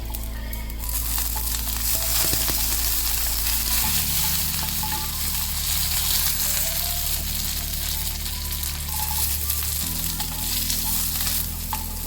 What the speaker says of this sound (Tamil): ஆனியன் ரொம்ப வதங்க வேணாம், சும்மா கொஞ்சம் லைட்டாக சாட்டே ஆன மாதிரி இருந்தாவே போதும்